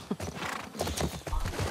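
Horse hooves clop steadily while a horse neighs in The Last of Us Part II video game, with a dense, busy rhythm close by under a wash of game ambience.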